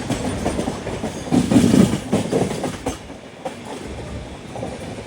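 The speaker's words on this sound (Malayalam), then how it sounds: "ട്രെയിൻ ഇറങ്ങി വരുന്നത്." A train on a Mumbai line comes rolling down from higher ground, its wheels clattering loudly and rising to a peak before easing off, with no voices.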